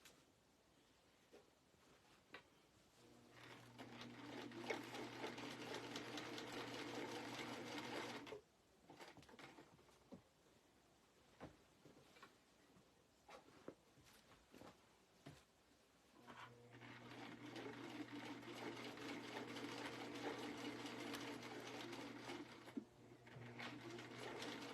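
A sewing machine stitches a denim jacket in two long steady runs, the whirring hum fairly close and continuous, separated by a quieter pause with light handling clatter.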